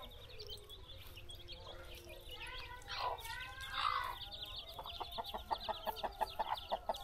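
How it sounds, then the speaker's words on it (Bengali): Hens and chicks in a rural yard in the Sundarbans, with soft clucking and chick peeping that builds into a run of rhythmic, evenly spaced clucks toward the end, over faint background noise. "এখানে কিছু মুরগির বাচ্চা হয়েছে, মুরগির বাচ্চা এখানে।"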